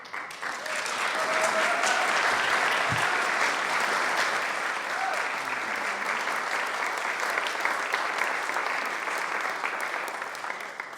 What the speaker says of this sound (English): give a big round of applause for our poetry reading to Rachel